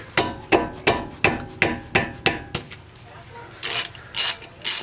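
A ratchet with a 14 mm socket loosens a brake caliper bolt on a 2004-2008 Acura TSX. About seven loud, evenly spaced ratcheting clicks come close up. Three softer clacks follow after a short pause, and no one speaks.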